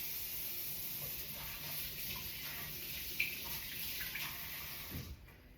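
Warm water poured into a sourdough starter, a soft, continuous trickle close by that runs for several seconds and then stops abruptly.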